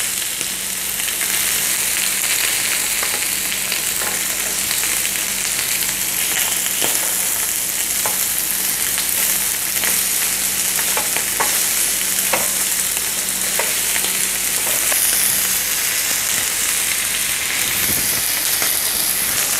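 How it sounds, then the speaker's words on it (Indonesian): A lamb chop grills on its underside, giving a continuous, even sizzle and crackle of meat on a hot surface, close and steady throughout with no talking. "Sekarang kita panggang di sisi bawahnya."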